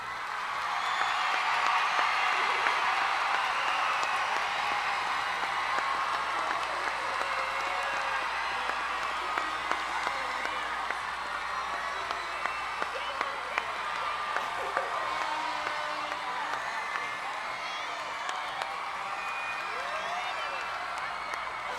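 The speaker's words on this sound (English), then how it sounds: "whoever can clap the loudest for their team" Teams gathered on the floor at a competition's opening ceremony clap and cheer loudly, with dense, sustained applause, scattered whoops and crowd noise filling a large hall for about twenty seconds.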